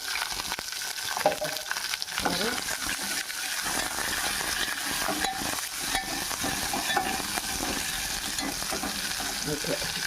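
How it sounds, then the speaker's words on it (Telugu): Green chillies and tomatoes fry in a pan for Andhra dosakaya pachadi, a steady soft sizzle with occasional stirring scrapes running throughout. "మనం పచ్చిమిరకాయలు, టమాటా కోసాం కదా, అది వేసుకొని బాగా దోరగా ఫ్రై చేసుకుందాం."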